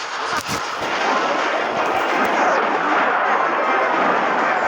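A log thrown in a Clash Royale-style mobile game, a quick thud and rolling crash followed by a dense, continuous rumble of battle effects, loud and close.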